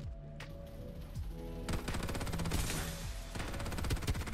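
Rapid automatic bursts from a UMP submachine gun in the shooter game Farlight 84, continuous loud rattling fire with overlapping shots and game effects, no talking.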